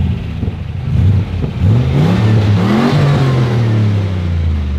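A turbocharged LS1 V8 in a VY ute on a dyno revs hard and loud, its engine note climbing and holding near the limiter in repeated rising pulls, with a steady roar throughout.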